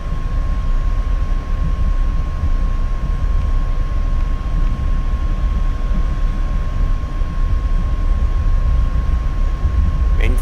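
A 1951 F-86 Sabre jet on takeoff roll, a loud continuous broadband engine roar with a steady tone running throughout, no voices.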